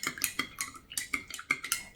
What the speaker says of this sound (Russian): Все это перемешиваю.